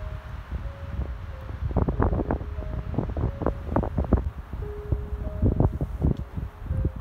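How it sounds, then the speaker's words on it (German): Icy cold wind blowing outdoors in open countryside with snow-dusted mountains, a steady gusty roar filling the background at moderate loudness, alone without talk. "Und es ist wirklich eisig kalt, weil der Wind so geht."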